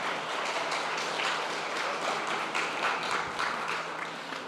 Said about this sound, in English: let's give a round of applause to our volunteer.